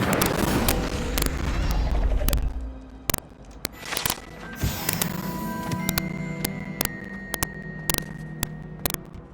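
Incendio fire spell cast in a Hogwarts video game: a loud burst of crackling, sharp popping bangs and whooshing fire, followed by scattered sharp impacts and ringing magical tones.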